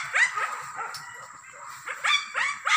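Hunting dogs on a wild boar hunt in Riau bark and whimper in a string of high, yelping calls, a burst at the start and another cluster near the end, fairly close with no talk over them.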